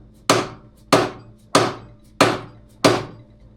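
A dead blow hammer striking a socket to seat an inverted front fork on an Ice Bear, five evenly spaced, close, solid thuds with a short decay after each.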